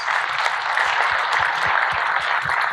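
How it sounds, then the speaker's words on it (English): A large indoor audience gives a steady, dense round of applause for past presidents at a fiftieth-anniversary gathering, the clapping loud and continuous throughout with a few low thumps beneath. "So let's get a round of applause for all our past presidents."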